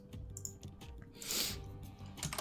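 Someone types on a computer keyboard in a quick run of soft, close key clicks with a brief louder clatter in the middle.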